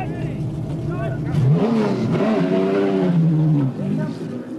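Group C touring cars, including a Holden Commodore, race at Adelaide in 1981, their engines roaring and revving loudly as they pass close, under a commentator's voice.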